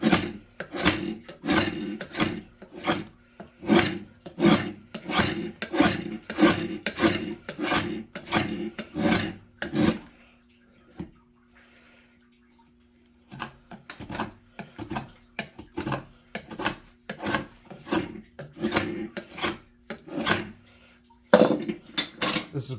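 Draw knife shaving knotty lumber in repeated rasping strokes, a steady run of close scraping pulls that pauses for a moment, then resumes at the same brisk rhythm.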